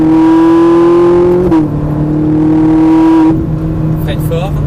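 A Ferrari 458 Italia going flat out on a racing circuit, its loud close engine note holding high and steady, dipping briefly at each gearshift, while an instructor talks over it.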